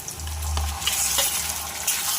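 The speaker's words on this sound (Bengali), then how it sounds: "দিয়ে এটা ভালো করে ভেজে নেবো লাল লাল করে।" Chicken keema frying in a pan makes a continuous close sizzle, with a few stirring scrapes and a low hum underneath.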